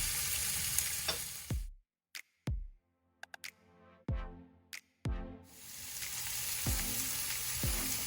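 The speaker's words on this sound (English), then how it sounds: "Once they start to crackle and pop" Herbs crackle and sizzle in a pan for braised short ribs, with loud frying at first, then a quiet stretch of sharp pops, before the steady sizzle swells back up, punctuated by crisp snaps.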